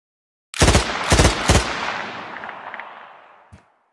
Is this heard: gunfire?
yes